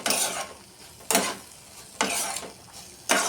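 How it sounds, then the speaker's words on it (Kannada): Tomatoes frying in a hot pan are stirred in four regular scraping, sizzling bursts about a second apart, close and fairly loud, with a softer steady sizzle between strokes. "ಈಗ ನಿಮಗೆ ನಾನು ಕೈಯಾಡ್ಸಕತ್ತೀನ್ರ"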